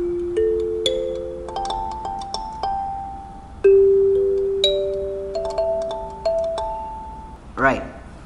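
Kalimba played with shuffling thumb strokes in faster phrases, with bright plucked metal tines ringing out in quick successive notes that overlap and decay, close and clear, ending with a brief buzzy rattle.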